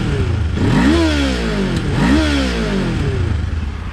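A stock 2024 Kawasaki Ninja 500 motorcycle idles in neutral and is blipped twice, each rev rising sharply then falling back to a loud, close, rumbling idle.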